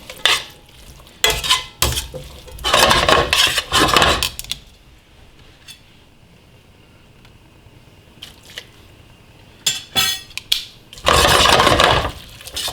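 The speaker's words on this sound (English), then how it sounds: "Got our pasta, got our bowl. I'm gonna plate this bad boy up." Garlic noodles being plated into a bowl, with wet squishing and stirring bursts in a few loud clusters separated by quieter pauses.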